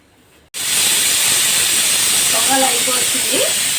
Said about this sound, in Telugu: పొగలు అయిపోతుంది, బెల్లం కరిగిపోయింది.